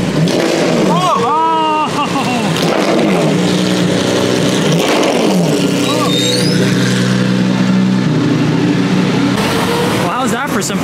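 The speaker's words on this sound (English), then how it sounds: "the MC12 Corsa on the road" A Maserati MC12 Corsa supercar drives past on a road during car week, its loud engine rising and revving in sweeping pitch, close and dominant, with voices talking over it.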